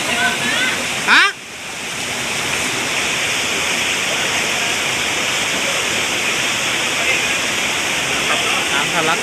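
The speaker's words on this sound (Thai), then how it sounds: "น้ำทะลักลงไปน่ากลัวมากครับ" Floodwater from Typhoon Matmo gushes and pours in Phuket, a loud, steady roar of rushing water that fills the whole scene, with a brief thump near the start and a voice speaking underneath.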